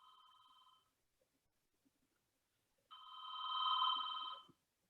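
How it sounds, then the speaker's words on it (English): A telephone bell rings twice in the background, a brief burst followed by a pause and then a longer, louder ring, with no talking over it. "I've got a phone ringing in the background here"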